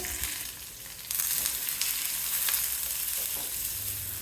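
Onion, whole slit green chillies and curry leaves frying in a pan for moong dal sambar, a steady close sizzle that grows louder after a brief dip, with faint stirring.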